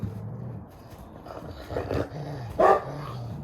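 A dog gives a short bark and some yips amid low growling and chewing noises at a wolf park, fairly close and not very loud.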